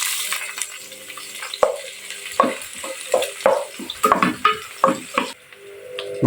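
Onion sautéing in a pan alongside ginger for goto, with a bright close sizzle and a run of sharp scraping and clattering strokes as it is stirred.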